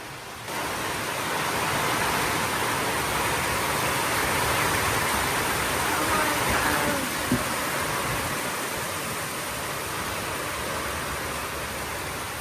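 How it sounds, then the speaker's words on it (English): Heavy tropical rain pouring down by the Caribbean sea, a steady, loud hiss that holds evenly throughout with no voices. "Wow, it's really raining."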